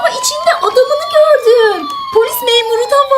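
A toy police car siren wails in rising and falling electronic tones, close and fairly loud, with a voice chattering over it.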